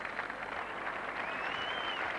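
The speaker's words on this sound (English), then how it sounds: "A great round of applause for Mike Paul from Trinidad." A crowd applauds steadily at an athletics meeting in Northern Ireland after a hammer throw, a dense wash of clapping that holds at an even level throughout, with a faint whistle-like tone rising through the middle.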